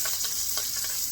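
Baby bok choy sautés in a hot pan with a steady, close hiss of sizzling, marked by a few light crackles and stirring ticks over about a second.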